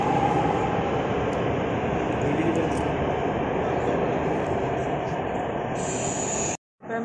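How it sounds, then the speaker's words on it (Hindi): A train arriving at a station, a steady loud rumbling roar of rail cars with a high whine, broken by a brief sharp dropout near the end. "दूसरी ट्रेन आई।"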